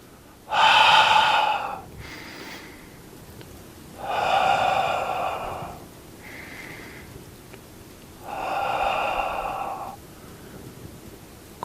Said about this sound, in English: Inhale, exhale, breathing in, breathing out